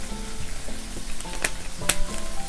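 Canned fish and egg sizzle steadily in a frying pan as they are stir-fried, with a few sharp clicks of a utensil scraping the pan, close and continuous with no talking.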